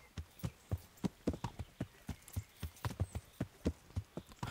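Horse hooves clip-clop at a steady trot while riding in Kingdom Come Deliverance, a regular rhythmic series of fairly close, moderate thuds with no talking.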